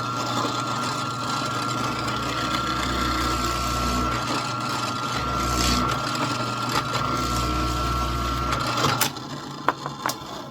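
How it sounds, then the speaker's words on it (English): A Forstner bit bores a dowel hole for the smokestack of a toy tugboat. The motor drones steadily and close, running in long stretches with brief dips, ending in a few sharp knocks, with no talking. "I'm going to drill in right to the top of my Forstner bit."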